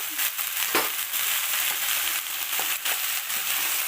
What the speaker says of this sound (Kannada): ರಾತ್ರಿ ನೆನೆಸಿರುವಂಥ ಚನ್ನಂಗಿ ಕಾಳು ಇದು ಫ್ರೈ ಮಾಡೋಣ.